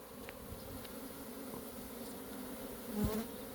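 Honeybees flying around their hives in the sun, a steady close buzzing hum with a few individual bees passing near, no talking.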